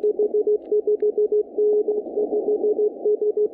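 Amateur radio Morse code signal from a KX3 transceiver, tuned slightly off frequency: a steady, clean tone keyed in rapid dots and dashes at moderate volume, with nothing else heard.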